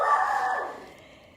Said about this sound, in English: if you hear my dog barking in the background